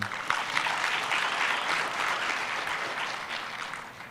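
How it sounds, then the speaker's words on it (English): Conference audience applauding at a TVET conference, a full, even wash of clapping that holds steady throughout and fades slightly toward the end, with no one speaking. "Let's give them a good round of applause"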